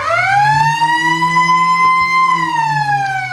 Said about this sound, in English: As the siren sounds to finish the third term here of the prelim final